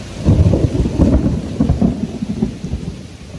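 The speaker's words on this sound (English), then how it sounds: "big storm all right here" Deep thunder rumbles over a steady downpour of rain, loud and continuous throughout.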